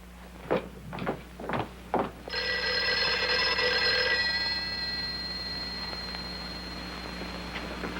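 Late at night an old-style telephone bell rings in a long, loud metallic trill after several sharp knocks or thumps, then fades away with a lingering tone.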